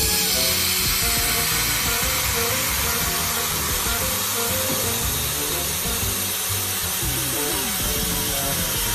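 A 3-in-1 handheld laser welding machine cuts through a board, giving a continuous loud, dense hissing and buzzing roar with faint rhythmic pulsing that runs unbroken throughout, with no voices.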